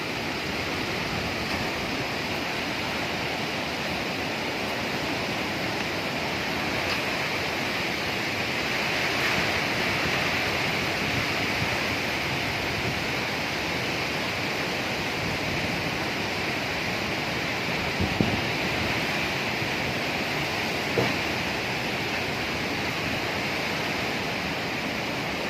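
Strong typhoon winds during Typhoon Odette roar as a steady, dense broadband rush that holds loud and unbroken throughout, with a couple of brief thumps near the end and no voices.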